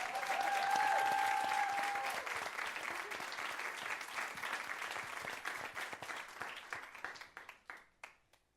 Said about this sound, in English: She deserves a wonderful warm applause.